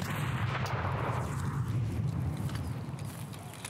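A grenade explodes in the video game Escape From Tarkov, a dense broadband boom that rolls on as a sustained rumble with crackling debris, loud and close.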